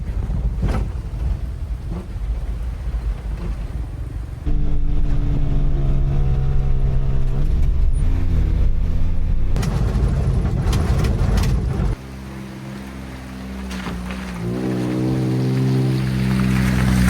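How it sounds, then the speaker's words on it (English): A heavy rain downpour drums on a mini truck driving in western Washington in early March, a dense steady hiss over a droning engine whose pitch rises and falls with shifts in speed. No talking. "It's just a downpour"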